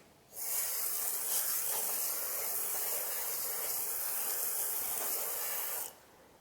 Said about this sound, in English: take my hose, squirt off all that grease and everything before it dries